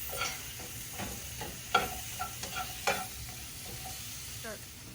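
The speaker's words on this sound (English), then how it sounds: "I'm going to go ahead and add my onion and cook that with the mushrooms as well" Onions and mushrooms fry quietly in a pan, giving a soft steady sizzle with a few scattered utensil taps and stirring scrapes, close by with no talk.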